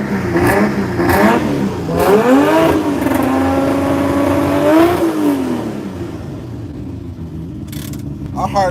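An LS V8 engine revs up repeatedly in loud, close blips, its pitch rising and falling in several swells before settling to idle, with voices talking in the background.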